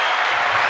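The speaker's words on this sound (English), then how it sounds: "Round of applause with episode 38." A short burst of dense applause from a podcast audience, loud and steady throughout.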